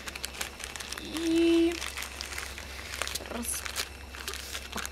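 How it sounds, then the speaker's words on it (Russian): An AliExpress parcel being unpacked, with its plastic packaging crinkling and rustling in scattered bursts close to the microphone, and a brief voice sound partway through. "Начинаем мы с вот этой вот посылки. Распаковываем ее."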